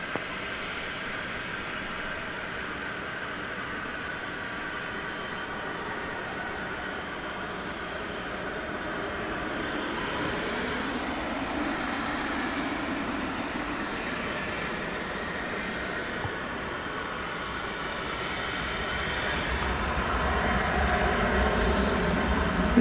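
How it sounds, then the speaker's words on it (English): An American Airlines Boeing 737-800 jet arrives at DFW Airport at night, its steady broadband engine roar continuous and moderately distant, growing slightly louder toward the end. "Here comes American Flight 1868, arriving from Pittsburgh, PA."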